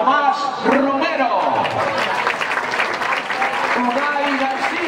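Applause from a crowd at a youth basketball club's season presentation for an under-14 player, steady clapping throughout, with an announcer's voice over the top at the start and near the end.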